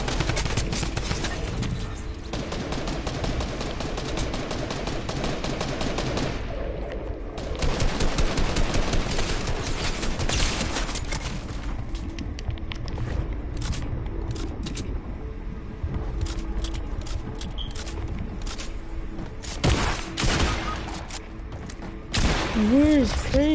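Rapid gunfire from a shooter video game, sustained bursts and scattered shots aimed at the player, loud and continuous across the clip, with talk present.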